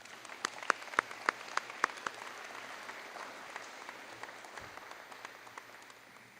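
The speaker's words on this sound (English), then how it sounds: "Let's give them a round of applause." Sparse, scattered clapping from a small audience at a high school senior awards night, a few loud claps early then thinning out into faint, irregular claps.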